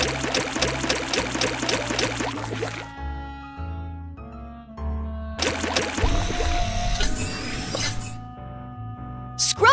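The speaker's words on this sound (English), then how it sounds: "Tap the button to spray the cleaning fluid." Cleaning fluid sprayed onto a fire truck in a children's car-wash video game: bursts of broadband hissing spray come and go over a steady game music backing, loud and close.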